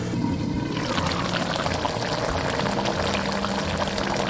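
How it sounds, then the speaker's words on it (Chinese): Mushroom soaking water pours steadily into a pot in a home kitchen, with a continuous close splashing stream and no talking. "倒入我们刚才泡香菇的水，烧开过后转小火炖15分钟。"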